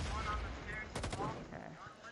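Gunfire in a competitive video game match, a quick burst of several sharp shots close together, heard under continuous commentary talk.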